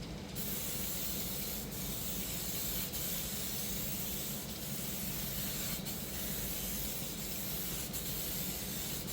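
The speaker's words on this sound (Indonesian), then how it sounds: "kita semprotkan lagi untuk primer grey-nya ini sampai menutup merata" Grey primer coats going onto car body panels from a Diton aerosol spray can, a steady close hiss running continuously with a few brief pauses and restarts.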